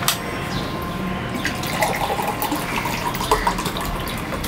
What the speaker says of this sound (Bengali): জলটা ভরে নিই